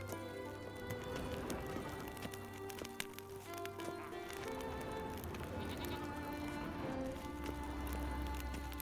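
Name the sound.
sheep bleating in a video game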